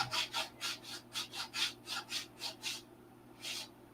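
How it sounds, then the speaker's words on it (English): Close, rhythmic sanding strokes rub back and forth over a wooden part for a 1/2A Cobra model wing, about nine steady passes and then a short pause before one last stroke. "Clean them up, final sanding"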